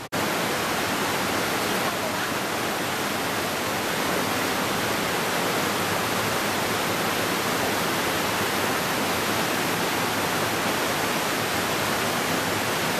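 A stream in an open-air village museum, running as a steady, close broadband rush of water that holds unchanged from start to finish with no voices over it.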